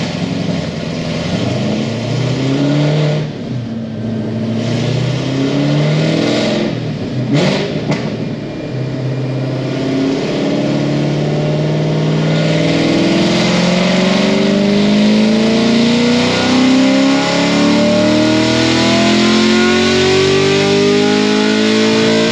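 A stage 4 sixth-generation Chevrolet Camaro SS on a dyno revs hard, its loud engine note climbing in long rising sweeps, briefly cutting out, then pulling up again with no one speaking.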